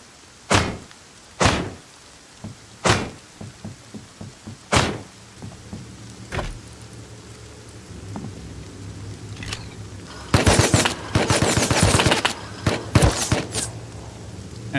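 Tommy gun fire in the survival game Rust: several loud, isolated bangs spaced a second or two apart, then a dense, rapid automatic burst near the end over a low background hum.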